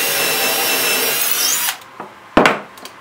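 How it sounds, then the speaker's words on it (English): A power drill bores into a 2x4 board for a construction screw, a steady continuous whir for about a second and a half that cuts off, followed by a few sharp knocks and clatters of wood. "we're going to drill and screw right there"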